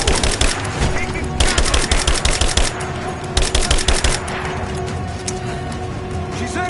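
Rapid automatic gunfire in Rise of the Tomb Raider on PS5, loud bursts of machine-gun shots broken by short pauses, with a low hum and combat noise between volleys.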